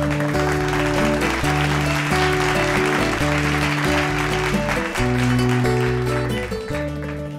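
An audience claps for a celebrated mother at a surprise celebration, a sustained wash of applause running beneath loud, rhythmic music.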